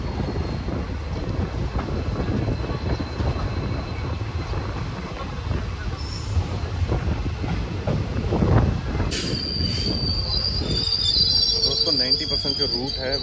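Sabarmati Express 19718 runs into Nana station with a steady low rumble of wheels and carriages, then rising metallic squeals and whine as it brakes near the platform, loud and continuous throughout.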